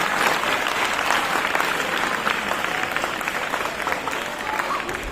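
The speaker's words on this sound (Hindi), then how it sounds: "एक बार फिर से जोरदार तालियां हो जाए" Audience applause at an Independence Day celebration, a steady, dense burst of clapping from a crowd filling the whole stretch at even loudness.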